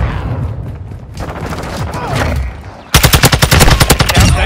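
Automatic gunfire in Call of Duty Modern Warfare II, first scattered shots and battle noise under voices, then a loud, rapid, evenly spaced burst of machine-gun fire close by.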